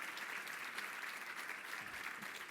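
Audience applause for speaker Simon at a business talk on manufacturing and lean development, a faint, distant, even wash of clapping from a crowd that runs steadily throughout.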